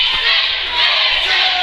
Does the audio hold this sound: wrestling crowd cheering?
yes